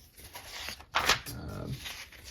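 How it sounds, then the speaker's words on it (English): A single crisp paper rustle and flip as a catalog page turns, followed by softer sliding paper sounds, close and fairly quiet. "So sorry for all the page turning here"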